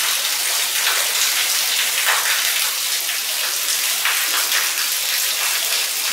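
Heavy water gushing down a giant old ore chute in the Horton Mine, a steady broadband roar of splashing and falling water, continuous and close, with no talking.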